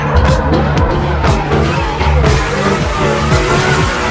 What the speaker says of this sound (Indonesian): ada mobil balap